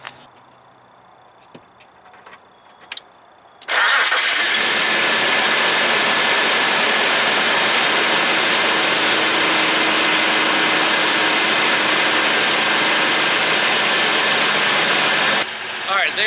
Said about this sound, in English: It's idling smoother than what it did when it showed up here.